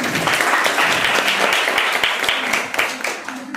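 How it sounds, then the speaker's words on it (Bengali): An audience at a college history department event breaks into steady, dense applause, many hands clapping together close by, then trailing off toward the end. "সকলে একটু করতালি দেবেন"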